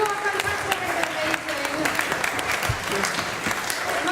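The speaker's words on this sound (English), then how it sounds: "Can we please have a huge clap for my wonderful best friend Sarah, my wonderful sister Becky." Wedding guests burst into sustained applause during the reception speeches, a dense wash of many hands clapping steadily throughout, with a voice faintly audible beneath it.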